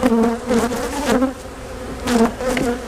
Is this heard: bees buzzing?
yes